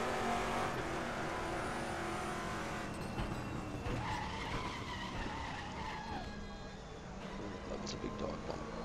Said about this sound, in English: Tyres squealing.